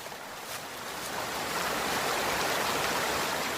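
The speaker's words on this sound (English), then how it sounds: "Wow, these waterfalls are gorgeous." Chapman Falls, a waterfall pouring over granite rocks in a wooded park, gives a steady, broad rush of falling water that swells slightly and then holds, close and continuous with no voices.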